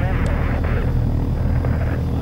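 A helicopter flies in the Take On Helicopters demo video game above a Seattle map, giving a steady, continuous engine and rotor drone that holds at an even level throughout.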